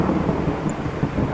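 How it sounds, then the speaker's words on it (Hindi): Heavy, rumbling storm noise with a low roll of thunder over steady downpour, loud and continuous throughout. "बाहर बहुत तेज बारिश हो रही है"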